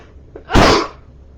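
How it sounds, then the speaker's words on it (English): A single loud, close sneeze bursts out after a brief intake of breath, then fades into quiet. "Oh, I have to sneeze."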